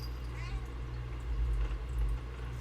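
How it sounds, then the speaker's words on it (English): A pet cat meows once, faintly, indoors beneath a steady low hum, with a voice nearby. "What is it, kitty? What are you doing under me?"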